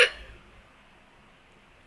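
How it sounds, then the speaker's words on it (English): A single hiccup at the very start, close and fairly loud, then fading into quiet room tone for the rest. "I'm gonna stop this now and go stop my hiccups."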